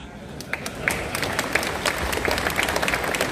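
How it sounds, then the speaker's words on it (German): Audience applause at a German Schützenfest in Altena, crowd clapping building to a steady, dense patter with sharper individual claps standing out near the front. "Ja, ihr könnt klatschen."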